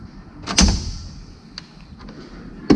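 A metal drawer on a Cornwell Platinum 84-inch toolbox with hutch slides open with a quick rolling rattle and a clunk. A few faint ticks follow, and a second knock lands at the end.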